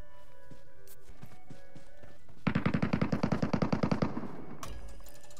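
An MK14 rifle fires in PUBG Mobile's Metro Royale mode: a sharp, rapid burst of about fifteen loud shots in the middle, between quieter game sounds.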